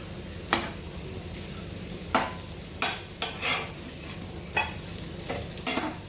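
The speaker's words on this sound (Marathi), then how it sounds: "सगळ्या पलटी करून घेऊया" Slices of elephant foot yam fry in a pan under a steady low sizzle, with several sharp scrapes and clinks of a spatula as the pieces are flipped at irregular intervals, close and clear.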